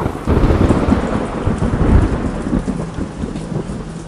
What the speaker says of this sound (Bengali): এরই মাঝে বৃষ্টি আর মেঘের গর্জন যেন আরোই বেড়ে চলেছে